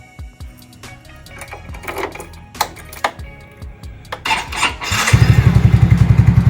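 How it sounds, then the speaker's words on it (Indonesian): A Yamaha Fino scooter fitted with a new battery clicks and cranks in scattered bursts, then catches and settles into a loud, steady, rapidly pulsing idle. "Setelah diganti, sekarang ini motor langsung tokcer lagi."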